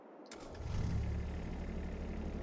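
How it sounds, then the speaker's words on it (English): A Kubota Sidekick utility vehicle's engine starts up in Farming Simulator 22, a brief crank giving way to a steady, fairly loud rumbling idle that carries on with no voices over it. "So we'll start the engine."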